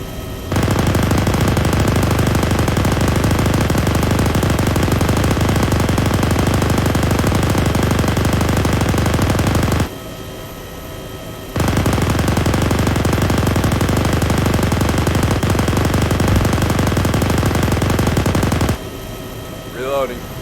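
Sustained machine gun fire in a video game, loud and continuous in two long bursts with a short pause between, then a brief quiet at the end.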